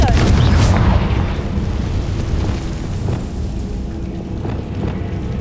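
Confringo blasting spell in the video game Hogwarts Legacy, a loud booming explosion that bursts at the start and then rumbles and crackles away over several seconds.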